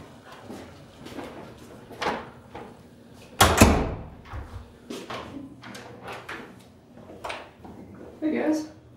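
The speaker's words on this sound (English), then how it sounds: "Then I'm just gonna close the door." A door pushed shut indoors gives one sharp, solid thud midway through, with people talking before and after it.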